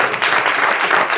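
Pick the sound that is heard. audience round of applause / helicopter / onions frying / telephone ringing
audience round of applause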